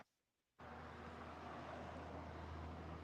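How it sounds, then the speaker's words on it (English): A heavy truck rumbles steadily past on a busy main road outside a home kitchen, a faint, low continuous drone heard from a distance with no talk over it. "Sorry little about the noisy truck"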